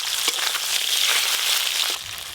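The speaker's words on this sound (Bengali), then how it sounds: "এবারে সব একসঙ্গেই ভেজে নেব।" Pieces of fish, including pangas and chela, frying together in hot oil in a pan, giving a steady, close, broadband sizzle that holds for a couple of seconds and then eases slightly.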